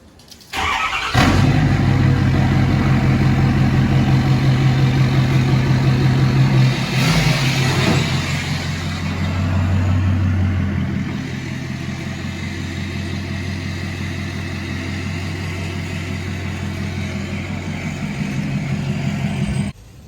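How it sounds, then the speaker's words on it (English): Pickup truck engine cranks and catches, then settles into a steady, loud, close idle with low rumbling tones, a brief rev partway through, continuing until it cuts off near the end. "Now we're gonna get the truck started up and moved out of the garage."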